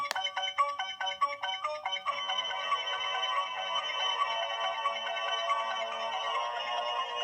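A bright electronic jingle of quick beeping tones plays from a Blu-ray Steelbook case's button, then settles into a sustained shimmering chime, fairly quiet and alone.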